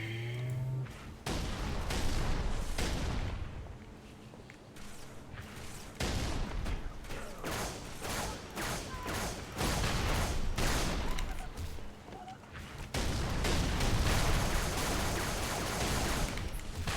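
Sustained gunfire during a Halo 3 firefight on PC, steady rattling volleys at close range with brief lulls between dense bursts.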